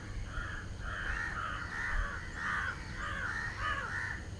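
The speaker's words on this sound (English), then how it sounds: "you can listen to the crows" Crows caw repeatedly while flying around a pond early on a Sunday morning, a series of harsh calls in a loose rhythm, moderately distant over a quiet outdoor background.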